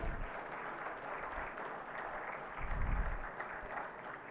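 Audience applause at India Maritime Week 2025 as dignitaries are invited onto the dais, a continuous round of clapping from a seated crowd that swells slightly near the end.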